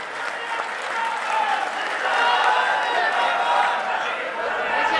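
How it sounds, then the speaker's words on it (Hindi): A large crowd applauds steadily and loudly throughout, a dense wash of clapping with some cheering mixed in. "जोरदार तालियों से आपका स्वागत।"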